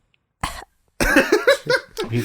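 A short cough, a brief pause, then a run of several harsh, close coughs in quick succession, loud and alone.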